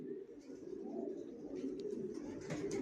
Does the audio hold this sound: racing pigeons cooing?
yes